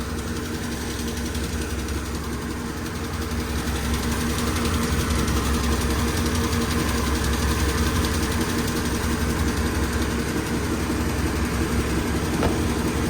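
MTZ tractor engine running with a sprayer attached, a loud, steady diesel drone with a low rumble that holds throughout, close by and unbroken.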